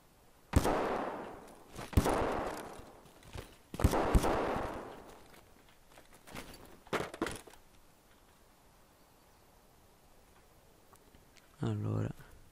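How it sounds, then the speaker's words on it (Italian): Gunfire in the Escape From Tarkov video game: several loud, sharp shots spaced a second or two apart, then a quicker pair, fading into quiet with a burst of other noise at the end. "i colpi vengono da questa parte"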